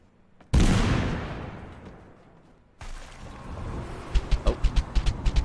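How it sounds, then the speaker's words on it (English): Gunfire in the battle royale game Totally Accurate Battlegrounds: a loud blast rings out and fades, then a burst of rapid, evenly spaced shots cracks off close by. "Immediately under fire."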